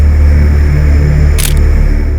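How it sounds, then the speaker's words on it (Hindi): A camera taking a photo gives a short, sharp shutter click, followed by a second brief click just at the end, set against a steady, loud background hum. "आ जाओ जरा ये फोटो खींचो फटाफट।"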